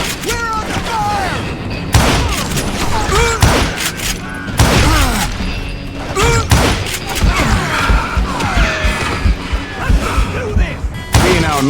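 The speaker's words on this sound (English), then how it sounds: "Who's shooting at me? We're under fire!" Gunfire in the Western shooter Call of Juarez: Gunslinger, near Parachute, Colorado: loud, repeated shots and heavy impacts in bursts throughout, mixed with game music and effects, while someone speaks over the action.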